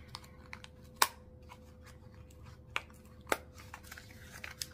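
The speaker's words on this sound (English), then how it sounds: "I'm just going to have to rip this open." Packaging for a liquid foundation being ripped open by hand, heard as a few sharp, separate tearing crackles over a quiet room, with the loudest bursts near the start and middle.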